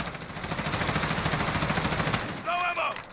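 Colt C8A2 rifle in Call of Duty Modern Warfare fires a long, rapid full-auto burst, loud and close, ending with a brief pause and a few clicking handling sounds.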